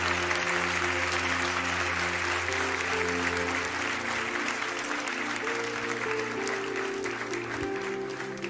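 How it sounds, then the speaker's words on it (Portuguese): A church congregation at a family worship service applauds in a steady, continuous patter that holds for several seconds over a sustained low musical drone. "Você pode aplaudir o Senhor, porque o Senhor está falando."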